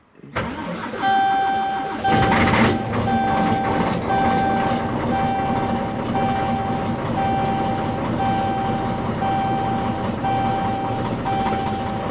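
A diesel engine cranks and catches, roaring up briefly, then settles into a steady, loud, rumbling idle with a faint whine on top.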